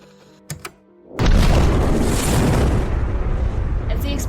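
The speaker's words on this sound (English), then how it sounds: "As the explosion happens" An explosion bursts during a Ten Candles role-play game, a sudden deep roaring blast after a couple of sharp knocks, then a sustained loud rumble that lingers to the end.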